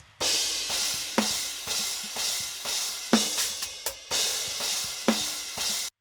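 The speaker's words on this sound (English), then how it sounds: "So cymbals sound like this with nothing on." Cymbals from a prog drum kit come through raw and unprocessed, as washy crashes and rides ring out with a few sharp hits and quieter drum bleed underneath, played alone in a loose rhythm.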